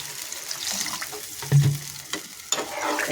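Eggplant pieces sizzling and spluttering in a frying pan just after water is poured in, a steady close hiss with a few sharper crackles and bubbling bursts.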